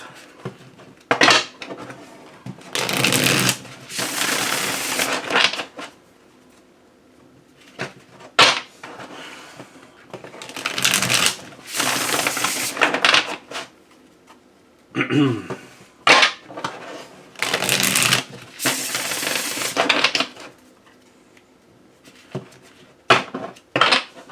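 A mass market tarot deck being shuffled, with bursts of riffling card noise repeating in several loud rounds separated by pauses, a voice talking in between.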